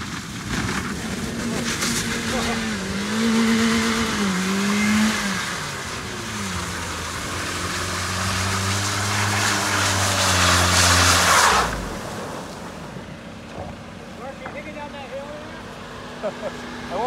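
Mazda 3 spinning around on wet grass during Rockford-style practice, engine revving and rising and falling in pitch through the turn before cutting off, loud and close, with people talking over it.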